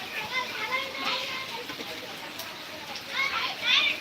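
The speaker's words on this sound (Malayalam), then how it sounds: "കൊച്ചു സംഘങ്ങളെല്ലാം ഉണ്ട് വെളിയിൽ കിടന്ന് കളിക്കുക മഴയത്ത് കിടന്ന് കുളിക്കുക എല്ലാം" A group of children playing and bathing outside in heavy rain, heard as high, fairly faint voices and shouts at a distance, rising toward the end over soft background wash.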